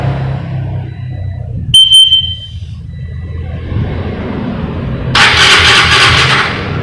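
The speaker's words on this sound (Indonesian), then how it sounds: "Motor akan dihidupkan" A short electronic beep from a phone-controlled alarm sounds, then a motorcycle engine cranks and catches, settling into a low idle before a loud hissing burst of noise takes over.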